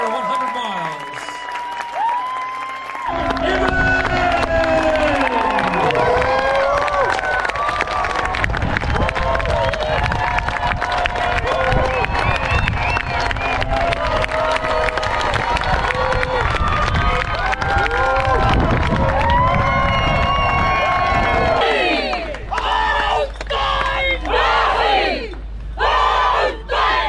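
A large crowd cheers, shouts and applauds the top five finishers of the Tarawera 100-mile ultramarathon, a loud sustained roar that fades near the end into a few scattered claps and calls.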